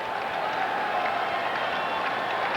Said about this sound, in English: this crowd's a lot more lively than they were last night